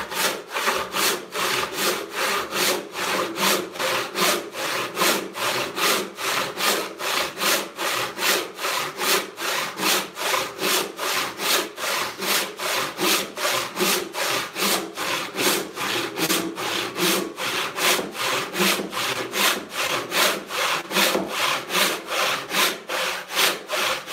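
A hand saw resaws 8-inch-wide walnut in steady rhythmic strokes, each push and pull rasping loudly and close, continuing unbroken for the whole stretch with no voices.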